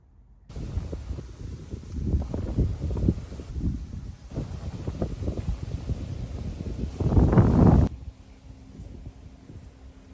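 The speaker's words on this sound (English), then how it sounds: "Do you guys feel that wind?" Wind blows outdoors and buffets the microphone for several seconds as a steady, rough low roar with gusty swells that builds to a stronger surge before easing off.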